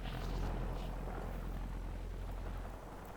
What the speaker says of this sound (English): I can hear explosions